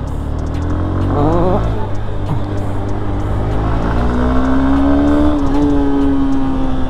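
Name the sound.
Honda Hornet 2.0 motorcycle accelerating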